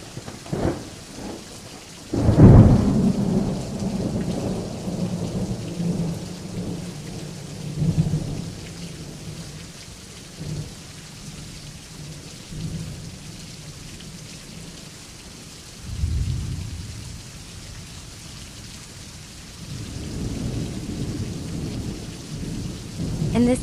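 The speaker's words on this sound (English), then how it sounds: "lightning in the sky." A thunderstorm with lightning: heavy rain hisses steadily throughout, broken by a loud, close thunder crack early on, a second rumbling clap midway and a low rolling growl near the end.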